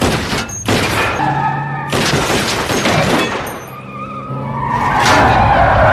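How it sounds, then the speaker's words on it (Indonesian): A car from The Punisher (2004) skids with screeching tires and crashes into another car, loud and close, with sharp impacts and a burst of metallic noise; no one speaks. "saat Frank menabrak mobil lain"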